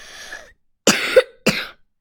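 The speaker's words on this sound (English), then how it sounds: "I have a bad cough." A short speech fragment followed by two harsh, close coughs separated by a brief pause.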